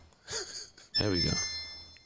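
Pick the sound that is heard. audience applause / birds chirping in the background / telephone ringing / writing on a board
telephone ringing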